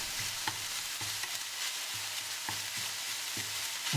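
Minced meat sizzles steadily in a pan while being crushed and broken up for ants climbing a tree, with regular spatula scrapes and taps falling about every half second under a constant frying hiss.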